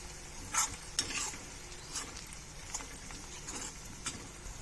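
Fried potato pieces and cashews cook in a pan for dhaba-style aloo fried rice, a brief, fairly quiet sizzle broken by a few scattered stirring scrapes and taps.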